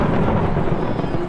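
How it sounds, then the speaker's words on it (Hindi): Thunder rumbles through a storm as a loud, low continuous roll with faint rain in the background. "भाई कुछ नहीं हुआ है, सिर्फ बिजली कड़क रही है।"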